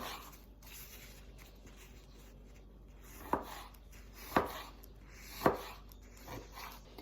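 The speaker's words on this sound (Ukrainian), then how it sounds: "нарізаємо їх на невеликі шматочки" A knife chops pitted fruit into small pieces on a board, three or four distinct thuds spaced about a second apart over a quiet background.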